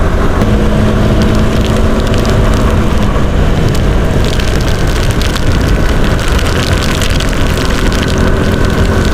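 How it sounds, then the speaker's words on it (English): Steady rain on a monsoon motorbike ride in South Goa, a dense continuous wash of noise blending with engine rumble and road roar throughout, loud and close with no pauses. "I'm vlogging for the first time in the rain."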